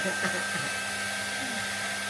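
A blower dryer roars steadily at close range while drying a freshly bathed pet, a constant loud airy whoosh with a faint hum under it and no speech.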